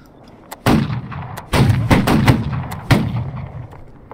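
Historical reenactors fire musket volleys outdoors: several loud, booming shots in ragged succession, some overlapping, each one echoing briefly.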